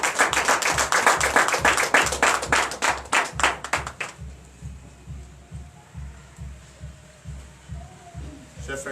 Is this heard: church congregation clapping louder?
yes